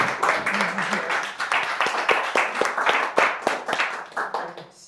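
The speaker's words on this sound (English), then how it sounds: "So how about another big round of applause?" An audience gives a round of applause after a talk on African American heritage of a southeast neighborhood: steady close clapping from many hands, carrying on for about five seconds with no talk over it.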